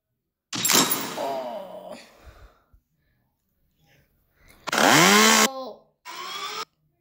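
Bursts of chainsaw revving, rising and falling in pitch, separated by short silences, with a couple of loud roaring pulls near the end, in The Henry Stickmin Collection video game.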